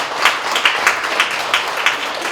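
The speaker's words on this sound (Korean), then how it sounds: "우리 저기 김강근 의원님께 큰 박수 부탁드리겠습니다" An audience at a humanities book concert claps steadily, a dense, fairly loud wash of many hands with faint rhythmic accents and no talking over it.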